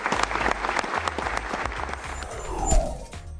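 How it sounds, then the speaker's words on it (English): A crowd of people claps in warm, dense applause that swells slightly before fading near the end, with no talking over it. "So let's give yourselves a round of applause."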